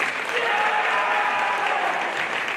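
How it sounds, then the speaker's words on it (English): Steady, dense applause and cheering from a crowd, continuous and fairly loud throughout with no breaks. "He has a cheering section."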